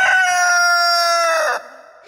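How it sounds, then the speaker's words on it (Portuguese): A rooster crows once, loud and close, with a long sustained call that cuts off sharply and leaves a quiet tail. "Minha avó comprou um galo"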